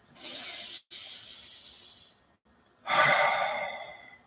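Two slow, deep breaths, close and audible: a long exhale with a brief pause in the middle, then after a short silence a stronger, rushing breath that tapers off.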